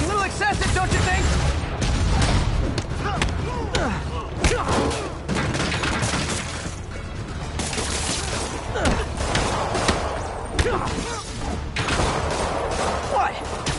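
Rockets and gunfire blast at Spider-Man in Marvel's Spider-Man game, with loud, close, repeated explosive bursts and thuds woven through music and voices talking.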